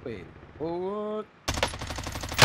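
A MAC-10 submachine gun in a video game shooter lets off a loud, rapid burst of shots near the end, after some short tonal voice-like sounds.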